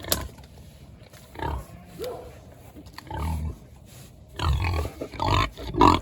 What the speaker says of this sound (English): So, let's go check on the pigs.